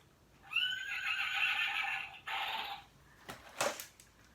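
A horse gives a loud, shrill whinny that falls away. It ends with a couple of snorting breaths, heard alone in a quiet setting at Tweetsie Railroad.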